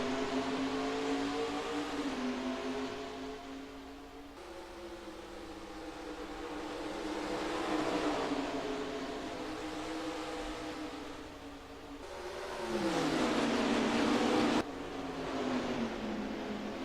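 A pack of 42 stock cars in the NASCAR Racing 2003 sim rolls off the grid at Richmond, a steady layered engine drone that swells and dips as cars pass, with a louder surge near the end.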